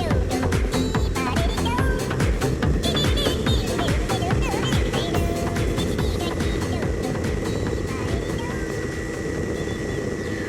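A Hurricane ultralight's two-stroke engine drones loudly and continuously at about 4,800 RPM during takeoff, with voice sounds mixed faintly under the engine noise.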